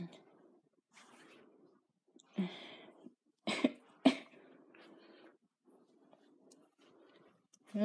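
A person coughs in a cluster of sharp, close bursts near the middle, with softer breathy sounds and quiet throat noises before and after.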